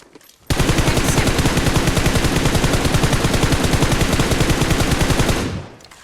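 Sustained automatic gunfire in the mobile battle-royale game PUBG Mobile, a loud, rapid, continuous burst of shots lasting about five seconds that starts abruptly and then fades, with no talk.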